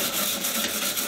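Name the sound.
brushing during car restoration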